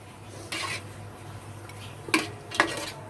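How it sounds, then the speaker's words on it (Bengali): Fish pieces dropped into a curry cooking in a pot, heard as a few brief close scrapes and sharp metallic clinks of a utensil against the pot over a low background hum, with no one talking. "মাছগুলো এখন দিয়ে দিচ্ছি"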